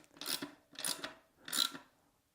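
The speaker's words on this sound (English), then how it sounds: "Tighten the bolts on the bottom of the basin" Three short rasping, scraping strokes from tightening bolts on the bottom of a basin, evenly spaced, close and fairly quiet, with no one speaking.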